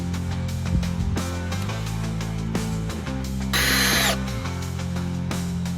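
Power drill driving screws into a haunted house monster entrance prop, a steady whirring motor with one higher, louder burst of drilling partway through, close and continuous with no voices.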